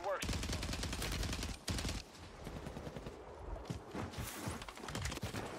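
Gunfire in Call of Duty Warzone rattles in rapid bursts, with dense automatic fire for the first two seconds and scattered shots after that, at moderate loudness.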